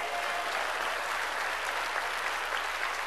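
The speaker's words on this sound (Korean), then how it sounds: "깨달았으면 박수 치라고요" A church congregation claps in sustained, even applause, a dense steady patter from many hands filling the room.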